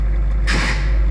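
With the engine of an M1151 HMMWV already idling as a steady low rumble, the starter is engaged against a damaged ring gear and bendix, giving a short, harsh grinding burst close by before fading back to the idle.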